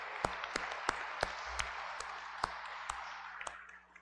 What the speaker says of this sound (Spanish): Un aplauso para el coro Emmanuel que nos acompaña hoy.